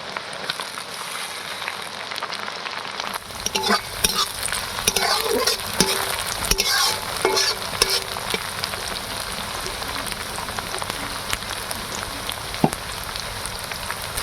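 Onion and tomato frying in oil and stirred in a pan for a Bhola fish masala curry, a steady close sizzle broken by repeated scraping spatula strokes and occasional clanks, no talk.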